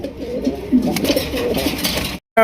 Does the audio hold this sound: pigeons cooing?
yes